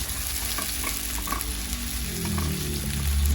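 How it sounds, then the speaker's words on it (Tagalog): Tomatoes added to onions stirring and sautéing in a pan, a loud continuous sizzle with spatula scrapes and clatter, building toward the end, no talk. "Tapos lalagay ko na rin yung ating kamatis. Yan. Tapos haluin lang natin siya ng haluin."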